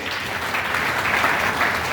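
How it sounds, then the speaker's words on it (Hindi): Loud, sustained applause from a large crowd at a public address in India, a dense wash of many hands clapping steadily for about two seconds with no voices on top. "आप स्वयं के लिए एक बार जोर से तालियां बजा दीजिए।"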